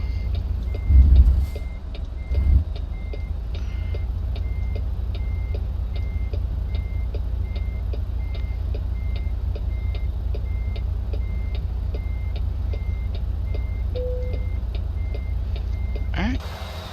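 A truck in American Truck Simulator backs a trailer in a straight line while its reversing alarm beeps steadily and evenly throughout, over a constant low engine rumble, with a couple of louder thumps near the start.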